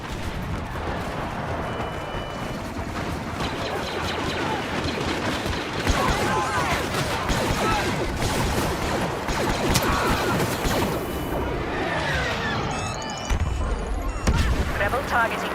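Blaster fire and explosions in the video game Star Wars Battlefront, rapid zapping shots and booming blasts layered densely over a continuous rumbling battle din, with a rising whine near the end.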